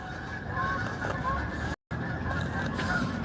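Geese honk repeatedly over a constant background rumble, their calls moderately close and overlapping; a brief dropout interrupts the sound midway.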